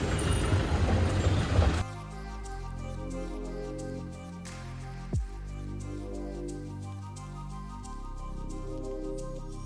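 Jammed road traffic in Dharamshala and McLeodganj, India, heard as a steady drone of idling engines with a humming tone and one brief sharp clunk, after an opening burst of louder roaring noise.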